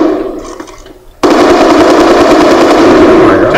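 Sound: gunfire in the video game Call of Duty Black Ops

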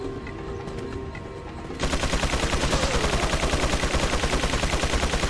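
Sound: machine gun fire from Resident Evil 4 video game

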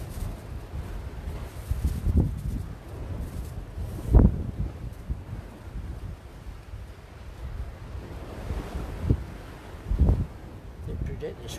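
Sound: ocean waves and strong wind on coast

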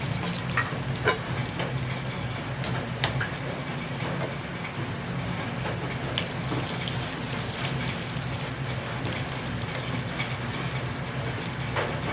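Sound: cashew nuts frying in a pan

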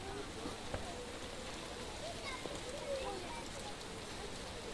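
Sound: rain falling in video game The Witcher

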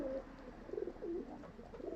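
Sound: pigeons cooing

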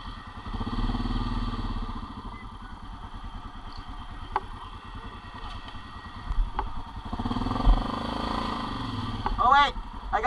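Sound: ATV engine running while mudding

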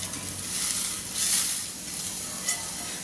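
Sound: pappadam added to coconut frying in a pan

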